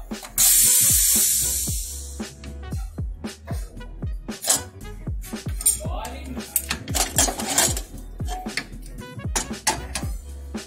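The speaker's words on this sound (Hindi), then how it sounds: "कुकर ठंडा हो चुका है चलिए अब इसे खोलते हैं कुकर" Metal lid scraping and clanking against a pressure cooker, with a sharp hiss of escaping steam at the start, followed by repeated clinks of utensils and cookware while goat liver masala is stirred.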